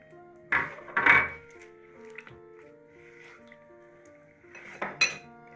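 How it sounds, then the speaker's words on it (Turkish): Cookie dough mixture with vinegar, salt and sugar is stirred in a bowl, a few clinking spoon strikes against the dish with quiet scraping between, close and distinct, no talk. "Şimdi iyice karıştırıyor."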